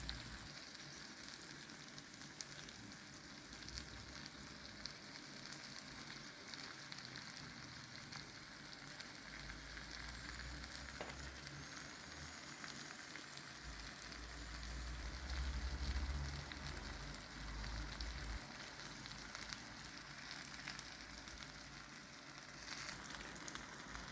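Broccoli and mixed vegetables frying in a pan make a steady, moderate sizzle that runs alone throughout, swelling slightly louder partway through.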